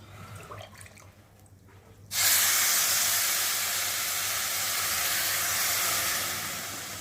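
Water pours steadily into frying rice for Bengali basanti pulao, a loud continuous hiss and rush that starts abruptly and holds without a break until the end, with no talking.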